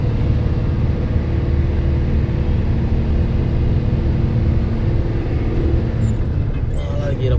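A fully loaded lorry in third gear climbs the Thoppur hills with its engine droning low and steady, loud and close throughout, while someone talks over the rumble.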